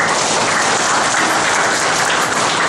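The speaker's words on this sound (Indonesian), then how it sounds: "Tepuk tangan dulu buat beliau" A crowd claps for a guest speaker at an inspirational talk held at a district military command in Banyumas, producing loud, dense, unbroken applause that fills the whole short stretch.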